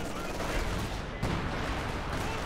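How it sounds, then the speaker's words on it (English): Sniper rifle fire in the Company of Heroes 2 battle game, crackling among dense overlapping gunfire and battle noise, with a sharp loud burst near the middle. "Snipers getting some shots there."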